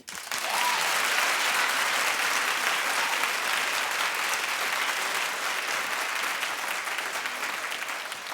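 A studio audience claps in a dense, sustained round of applause that rises quickly and holds loud and even throughout, with no voices standing out.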